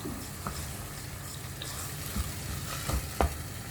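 Boiled celery leaves sauté in a pan for a soup, a faint steady sizzle under a few soft stirring knocks and clinks of a utensil, with no talk.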